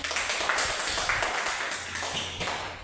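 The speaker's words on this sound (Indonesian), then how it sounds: "Mari kita beri tepuk tangan." Applause for groups that just presented their work in a classroom, steady overlapping clapping of a small crowd, fairly faint and continuous with light tapping accents.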